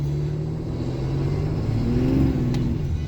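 A Ram 3500 pickup with a Cummins diesel engine accelerates at about quarter throttle, giving a steady, close engine drone and rumble that rises gently in pitch as boost builds, with no talk over it.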